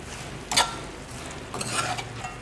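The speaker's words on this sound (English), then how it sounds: "what I'm going to do now is add in my soya chunks. Mix it all up with that nice curry." Soya chunks are stirred into a Trinidadian potato curry in a pot, giving soft scraping and sloshing strokes over a faint simmer. Two brief, brighter scrapes stand out, and no voices are heard.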